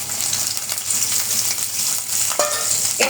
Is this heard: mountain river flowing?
no